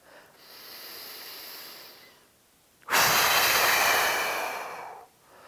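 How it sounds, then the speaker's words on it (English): Two deep breaths: a soft, moderate inhale through the nose for about two seconds, then a louder, rushing exhale through the mouth lasting nearly two seconds, close and with no talking. "Take a nice deep breath in through your nose."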